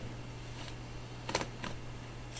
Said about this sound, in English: make sure that you're typing in the address